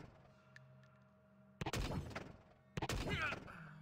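Gunfire in the sci-fi tactics video game Stellar Tactics: two heavy bursts of shots, each a dense rattling volley lasting about a second, loud against an otherwise quiet background with a low hum.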